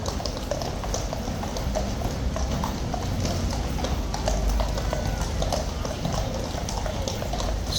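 Hooves of a King's Guard cavalry horse clop and scrape on slippery ground as the animal shifts restlessly, a continuous close shuffling under a busy outdoor street ambience.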